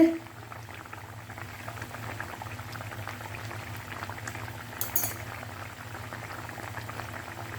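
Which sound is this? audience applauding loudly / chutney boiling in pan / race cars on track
chutney boiling in pan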